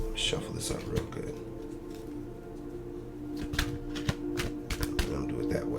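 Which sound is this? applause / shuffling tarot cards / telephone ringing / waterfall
shuffling tarot cards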